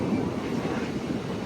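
Chennai SF Express train 12604, Hyderabad to Chennai, running near Moula Ali: a steady, continuous low rumble of rolling rail cars, evenly loud without breaks or voices.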